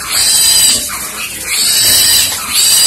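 A fattening pig squealing loudly during castration, shrill piercing screams in two or three long bursts, very close and harsh, with no talk.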